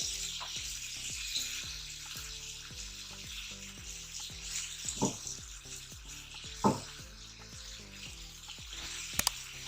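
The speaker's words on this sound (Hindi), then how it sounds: "अब मैं इसको साथ ही मैं ये चिकन डाल रही हूँ ताकि चिकन भी साथ साथ पकता रहे।" Chicken frying with garlic in a pan, a steady sizzle broken by repeated stirring scrapes and occasional clinks of a spoon against the pan, heard close with no talking.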